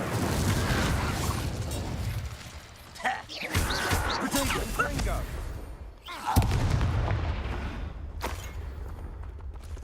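In the Hogwarts Legacy video game, an Incendio fire spell goes off as loud, booming bursts and rushing whooshes, with heavy rumbling battle effects running throughout and a voice shouting over the combat.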